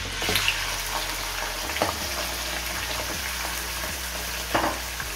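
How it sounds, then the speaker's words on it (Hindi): Chicken pieces frying in hot cooking oil for biryani give a continuous close sizzle and crackle, punctuated by a few soft clinks and stirring scrapes in the pan, no voices. "अब इसमें हम चिकन डाल देंगे।"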